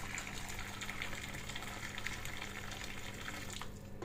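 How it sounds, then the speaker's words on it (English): Hot water pours steadily into a pan of pancit in a home kitchen, a continuous close splashing gush with no talking. "we're gonna add some hot water"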